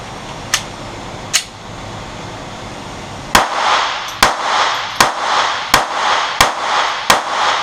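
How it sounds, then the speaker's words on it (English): Shots from a Glock 42 pistol firing .380 85 grain Extreme Penetrator rounds: two separated reports, then a rapid string of six loud, evenly spaced shots with ringing between them. "we are testing our 85 grain Extreme Penetrator round out of a Glock 42"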